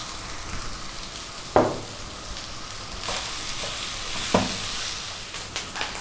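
Rice fries in a pan for pumpkin fried rice, a soft continuous sizzle broken by two sharp scrapes of stirring and a few smaller clinks.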